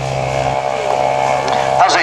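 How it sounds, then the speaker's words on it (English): A half-scale aircraft powered by a microlight engine takes off at an airfield show, its engine droning loudly and steadily throughout while a commentator talks over it. "this is half scale, powered by a microlight engine"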